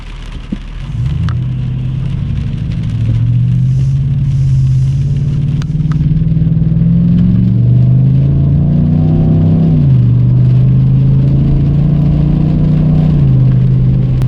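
Inside a 2019 Chevrolet Silverado RST Z71 with an MBRP exhaust, the engine drones steadily as the truck accelerates, and a broad tire roar builds beneath the exhaust note at road speed. No one speaks.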